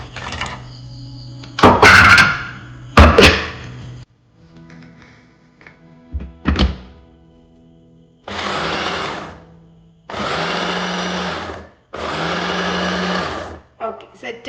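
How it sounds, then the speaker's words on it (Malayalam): An electric blender whirs through banana cake batter with milk, sugar and salt in three loud, steady bursts near the end, each lasting under two seconds, after some earlier kitchen clatter and knocks. "കുറച്ച് പാലും കൂടി ഞാൻ ആഡ് ചെയ്ത് ഞാൻ ഒന്ന് ബ്ലെൻഡ് ചെയ്യാൻ പോവാണ്"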